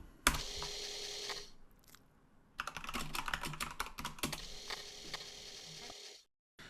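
Keys clatter on a Commodore 64 keyboard as a command is typed, a brief opening burst, then a quick close run of clicks, with no voice.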